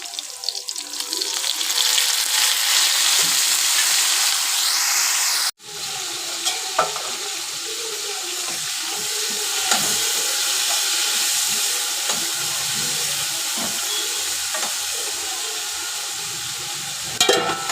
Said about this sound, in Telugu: కాకరకాయలు అయితే ఫ్రై అయిపోయినాయి కదా